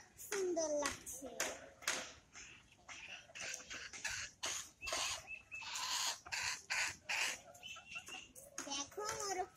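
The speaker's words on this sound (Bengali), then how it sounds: "দেখো মোরগটা কত সুন্দর করে ডাকছে" A rooster crows and clucks in short, repeated outbursts close by, mixed with someone talking and some handclaps and clattery noise.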